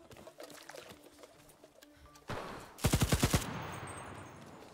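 Machine gun fire in the video game Cuisine Royale rips out as a short, loud burst of about half a dozen rapid shots midway, preceded by a sudden rush of noise, with no talking.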